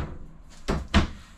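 A drawer in a luxury travel trailer kitchen with solid surface countertops slides open with two quick, close knocking thuds about a quarter second apart in a quiet room.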